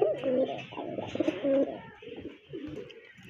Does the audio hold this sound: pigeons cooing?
yes